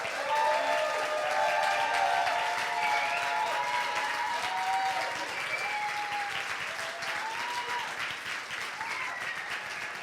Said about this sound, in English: we can all give it the biggest applause we can actually do to